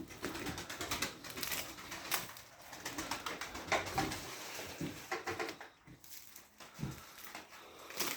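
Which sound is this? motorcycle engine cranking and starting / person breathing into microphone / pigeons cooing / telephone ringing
pigeons cooing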